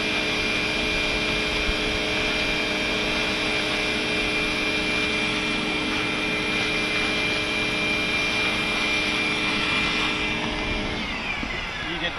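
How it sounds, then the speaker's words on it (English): Shop vac sucking up debris during a swimming pool expansion joint replacement, a loud, steady whining roar up close that runs unbroken and shifts slightly near the end. "now what I'm gonna do is just clean all this crap up with a shop vac"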